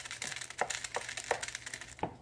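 Water hitting a hot stove burner while cooking, giving crackling, spitting pops and crinkly bursts over a steady hiss, with sharper snaps scattered through.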